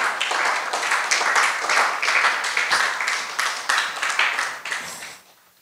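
A church congregation, standing, gives a loud round of applause that carries on for several seconds, a dense wash of many clapping hands that fades away at the end.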